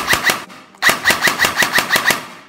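A Lehui Victor SIG 552 gel blaster fires in semi-auto mode, giving two quick sharp shots, a brief pause, then eight evenly spaced snappy shots in a steady rhythm, close and fairly loud.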